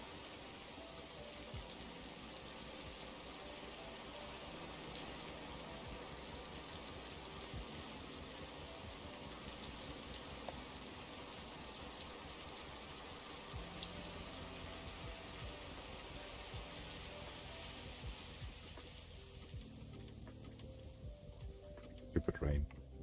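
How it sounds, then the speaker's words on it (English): Rain in the Scrap Mechanic video game, a steady soft hiss of falling drops that runs the whole way through at low level, with a couple of brief knocks near the end. "Stupid rain."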